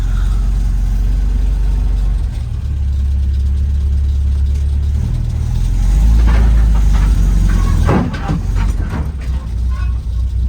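A car engine rumbles low and steady as it is driven onto a trailer, swelling briefly as the throttle is given, with a few knocks and clunks toward the end.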